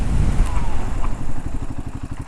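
A Royal Enfield Himalayan 450 motorcycle rides at 80 km/h, its engine giving a loud, close, steady thrumming pulse with wind rush.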